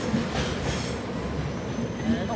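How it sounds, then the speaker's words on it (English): A freight train rolls past the Lincoln High Street level crossing, with a loud, close rumble, rail clatter and a thin wheel squeal running throughout. "I'm waiting for that freight train"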